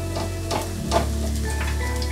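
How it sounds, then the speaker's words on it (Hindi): Finely chopped garlic dropped into hot oil for a hot and sour soup, sizzling steadily and close by with a brief burst as it hits the pan, continuing as an even crackle throughout. "ये ऑयल हमारा गर्म हो गया है, अब हम इसमें डालेंगे ये लहसुन"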